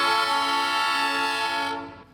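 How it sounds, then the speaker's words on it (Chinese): A tourist train sounds its horn as it pulls away, one long, loud, sustained blast with a rich steady tone that fades out near the end. "喇叭响，火车之路开始"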